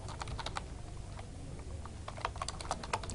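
Rapid typing on a computer keyboard while entering data into an Excel spreadsheet, quiet irregular bursts of key clicks with a brief pause midway, close and alone.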